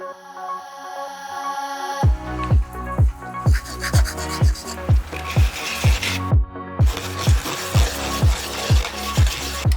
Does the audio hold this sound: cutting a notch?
yes